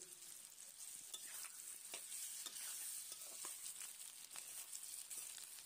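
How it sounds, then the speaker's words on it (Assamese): Chicken pieces fry with ginger-garlic paste in a wok, with a steady close sizzle broken by repeated scraping stirs of a spatula, no voices. "দি পিনে মই আকৌ ধুনীয়াকৈ ইয়াক ভাজিম।"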